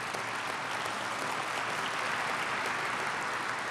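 Sustained audience applause fills a convention center ballroom, a dense, steady wash of many hands clapping at even volume throughout with no talking.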